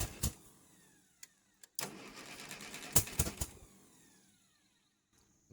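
Old 1953 tractor engine being cranked and trying to start, a few short sputtering bursts and uneven catches separated by quiet gaps, fairly close and moderately loud, never settling into a steady run.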